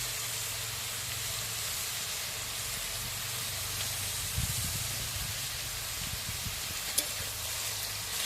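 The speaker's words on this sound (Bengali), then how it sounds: "এটাকে ভালো করে কষিয়ে নিতে হবে তেলের মধ্যে।" Elephant foot yam stalks with turmeric and salt sizzling in oil, a soft continuous hiss close by with a few brief stirring bumps.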